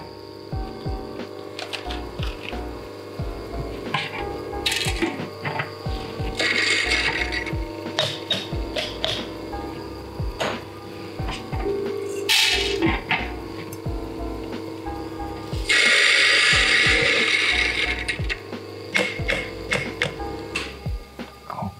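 A coffee grinder set to a coarse grind crunches through beans with dense clicking and rattling over about twenty seconds, with louder grinding bursts at intervals and no speech.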